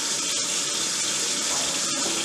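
Tap water runs steadily through a Kangen water machine fitted to a household faucet, a continuous loud hiss and splash with no pauses and no voices.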